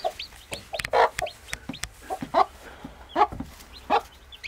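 Backyard chickens, a mother hen among them, clucking in short repeated bursts close by, with quiet gaps between calls and no talking.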